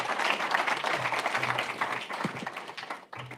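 An audience gives a round of applause for speaker David at the FinTech North Leeds 2024 conference. Dense, steady clapping fills the room for a few seconds, then tapers off briefly before swelling again.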